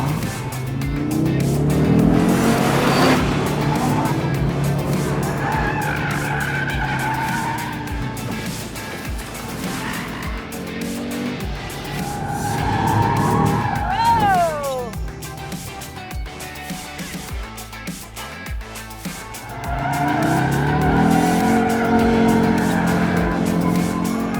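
A 2022 Audi RS3 (8Y) drifting in RS torque rear mode, its engine droning and revving while tires squeal in rising and falling bursts, with a voice speaking over parts of it.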